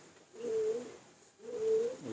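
Rampuri pigeons coo in two low, rounded, drawn-out calls, close and moderately loud, separated by a short pause in an otherwise quiet setting.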